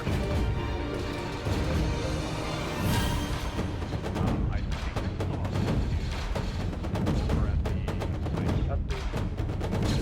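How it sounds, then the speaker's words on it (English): Blaster fire exchange in Arma 3 near a compound: dense, rapid volleys of sharp shots crackling almost continuously at close range, loud and overlapping, with a brief swell of other noise partway through. "our interview was cut short by a bout of blaster fire erupting near our position"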